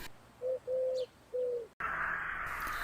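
A Eurasian collared dove coos three times, soft and low, in short steady notes, then a broad wash of noise takes over.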